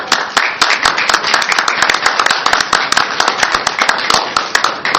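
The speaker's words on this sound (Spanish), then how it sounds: "Un aplauso." An audience at a comic museum conference in Mérida claps loudly and briskly, sharp individual hand claps close by forming a steady, rhythmic round of applause for the panelists.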